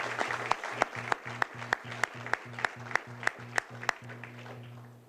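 An audience at the grand opening of Northeastern's Lightview Residence Hall applauds the mayor. Dense crowd clapping is punctuated by loud, evenly spaced claps close to the microphone, then continues steadily to the end.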